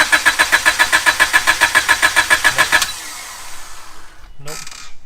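A 1995 Honda Civic Si engine cranks over with a loud, rapid rhythmic starter whir for about three seconds without catching, then stops, leaving a quieter stretch with a short burst of sound near the end.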